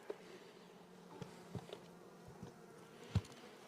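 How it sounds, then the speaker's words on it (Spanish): Wasps buzz around a hive while being fed, a steady low insect drone with a few sharper close passes and bumps. "Lo único que estoy haciendo es alimentando avispas"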